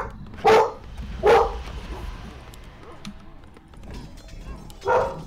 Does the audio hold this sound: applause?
no